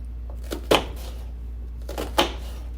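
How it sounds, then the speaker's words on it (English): A knife slices half a sweet onion thinly on a cutting board, two sharp close chops about a second and a half apart over a low steady hum, with no talk. "Now I'm going to cut on my onion."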